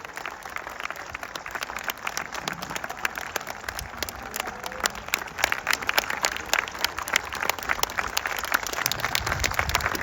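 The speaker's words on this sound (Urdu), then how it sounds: "زوردار تالیوں سے استقبال کر لیجئے." An audience at a poetry festival gives loud, sustained applause to welcome poet Javed Akhtar, a dense crowd of clapping that holds steady and swells slightly toward the end.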